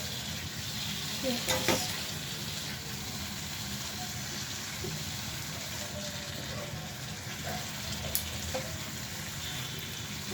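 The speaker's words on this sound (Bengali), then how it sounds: "আলুটা প্রায় রঙে মশলার ভিতরে কষানো হলো" Potatoes sauté in a spice masala with a continuous close sizzle, broken by a few sharp clinks and scrapes of stirring.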